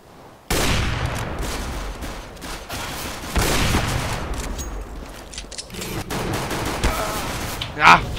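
Bursts of automatic gunfire from a Counter-Strike: Global Offensive match ring out across the whole stretch, dense and loud, with a sharper crack near the end, and someone talks over the shooting.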